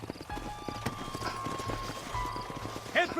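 Horses trot in the Red Dead Redemption video game, with rhythmic low hoofbeats clopping steadily throughout and a short whinny rising near the end.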